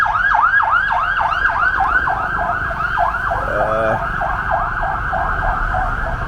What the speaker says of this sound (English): There's an ambulance coming right now.